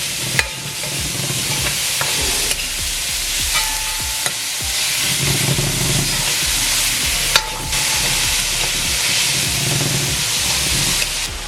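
Hot peppers and onion frying in a pan make a loud, continuous sizzle and crackle, with occasional stirring clatters throughout and no talking.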